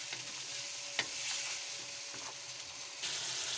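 Vegetables for a vegetable pulao sizzle steadily in a hot pan while being stirred, with a constant bright frying hiss and occasional scraping strokes of the spoon, close and without talk.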